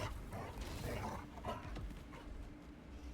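A dog in The Casting of Frank Stone horror game whimpers and yips in short, uneasy bursts against a low rumbling background.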